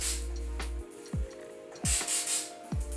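Hairspray is lightly spritzed onto curled hair, a few short, soft hissing puffs at close range with brief rubbing between them.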